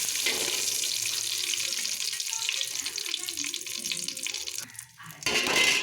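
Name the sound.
spices frying in ghee for fried rice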